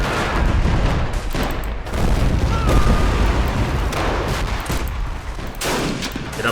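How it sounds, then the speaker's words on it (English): Dense, continuous gunfire and heavy artillery booms from a Chaco War battle in a 1933 interwar strategy game, a loud, unbroken fusillade with overlapping shots and blasts throughout. "you can see within seconds getting taken down by enemy artillery fire or just sniper fire"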